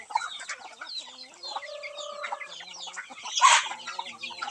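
A native Palawan labuyo chicken clucks repeatedly in short, close calls, then gives a brief crow-like burst near the end, with no talking.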